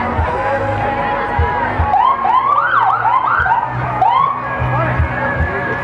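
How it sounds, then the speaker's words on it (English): An ambulance siren wails with rising and falling sweeps as it passes through a July 4th parade, loud and steady over crowd noise and cheering. "We have an ambulance coming through, please."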